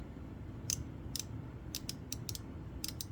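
A budget 90-tooth comfort-grip ratchet gives short, crisp clicking bursts as its socket is turned by hand against back drag, about nine quick clicks spaced irregularly over a steady low hum, with no talk.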